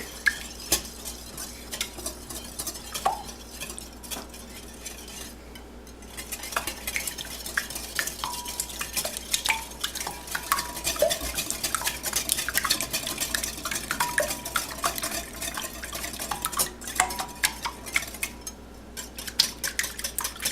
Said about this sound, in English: So get out a whisk and whisk these eggs up.